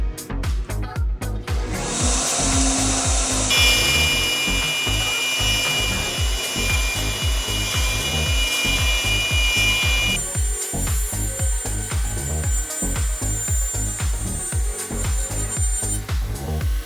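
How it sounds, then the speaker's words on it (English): A CNC router cuts a wooden box with a loud, steady whine and rhythmic, grinding pulses that repeat throughout. The pitch shifts partway through as the cut changes. "start that router, and run the program"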